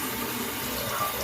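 Hot water runs steadily from a tap while a razor is readied for a wet shave, a close, continuous hissing splash with no pauses.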